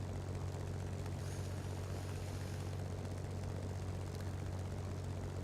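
A propeller airplane engine drones steadily in the War Thunder flight game, a loud continuous buzzing hum with a dense low-frequency throb that holds constant throughout, with no other sounds.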